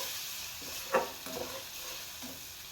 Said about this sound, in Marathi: काळं वाटण टाकून चांगलं फ्राय करून घेऊ